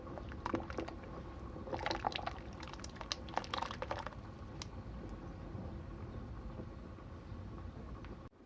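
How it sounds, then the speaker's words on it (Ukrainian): Dried beans tipped into a pot of boiling rural Ukrainian borscht, giving a brief burst of splashing and clattering over the steady bubbling of the simmering soup. "Відразу після заправки вкидаємо квасольку."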